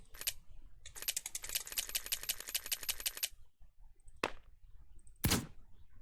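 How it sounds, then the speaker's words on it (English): Weapon reload from Left 4 Dead 2 running a Payday 2 sound mod: a brief click, then a fast rattling run of mechanical clacks lasting about two seconds, followed by two sharp metallic snaps, heard alone and close. "that's the reloading sound"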